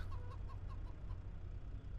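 Faint, quick clucking of chickens in Farming Simulator 25 repeats several times over a steady low engine-like rumble, the bird calls thin and distant.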